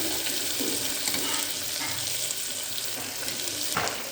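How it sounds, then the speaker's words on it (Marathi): Curry leaves splutter and crackle in hot oil while tomato khichdi is being cooked, a loud, dense, continuous hiss with scattered pops running steadily from start to finish. "कढीपत्ता घातली की इतकं डेंजर उडतं ना, ते एकदम चटपट होतं पोळ्यासारखं"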